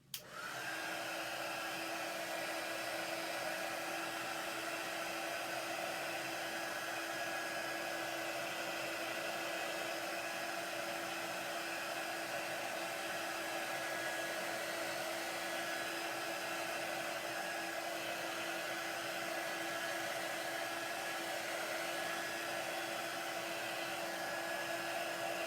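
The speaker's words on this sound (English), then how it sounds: "grab your hair dryer. It works just as well." A hair dryer blows steadily on chalk paste throughout, a loud, even rushing whir with a constant motor whine that starts abruptly and runs unbroken, no voices over it.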